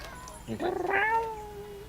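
A cat gives one clear, drawn-out meow up close, rising and then trailing off, against a quiet indoor background.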